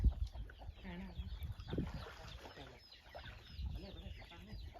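Chickens cluck and murmur close by, with soft scattered calls and rustling, while a person speaks quietly in the background.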